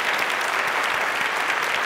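Strong, sustained applause from a studio audience at a televised Rajasthani quiz show, steady dense clapping throughout with no voices over it.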